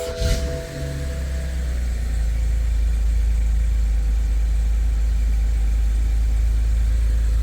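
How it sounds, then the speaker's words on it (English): A BMW 3 Series E90 engine cranks over briefly, catches, then settles into a steady low idle rumble that holds evenly to the end, close and alone. "If I start the car"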